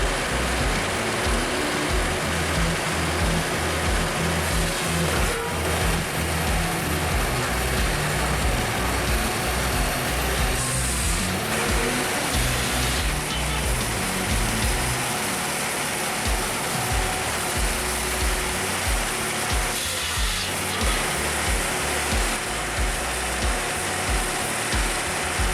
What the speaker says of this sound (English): The Bell 8000 circular saw firewood processor, with its 125 horsepower electric engine, combines raw power and seamless automation